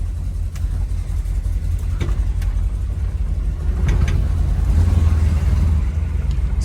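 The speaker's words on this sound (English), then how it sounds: "As you guys can hear, that 396 sounds good." A 1965 Chevrolet Impala SS with a 396 V8 runs steadily from inside the cabin, a low continuous rumble with slight swells in engine load and no talking.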